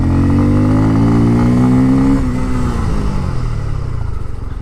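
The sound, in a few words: Bajaj Pulsar F250 motorcycle loud exhaust note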